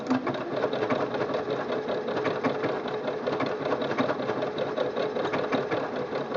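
A Singer Quantum Stylist 9960 sewing machine stitches out a decorative stitch with a fast, steady mechanical whir and rapid needle clatter, close and continuous, with no talking.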